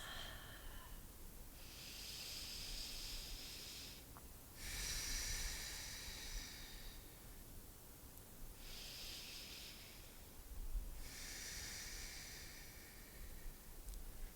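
Slow, deep yoga breaths during a guided vinyasa session, long airy inhales and exhales alternating in a steady cycle of roughly three seconds each, close and soft, without talking.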